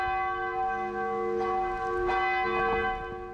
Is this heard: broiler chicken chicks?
no